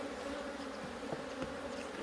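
Honeybees in a hive being opened for inspection, a steady close buzzing drone filling the whole stretch with no talk.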